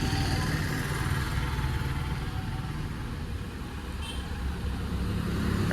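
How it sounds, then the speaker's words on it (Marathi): A car drives away homeward with a steady, loud low engine rumble and road noise throughout, heard close up without talk. "चला घरी गेली गाडी फायनली"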